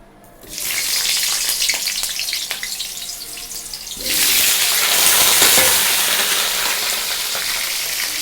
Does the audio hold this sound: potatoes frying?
yes